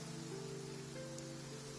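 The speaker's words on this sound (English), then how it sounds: "It's raining." Light rain falls steadily in a PS4 video game scene, a soft continuous hiss over a low ambient hum, with no talking.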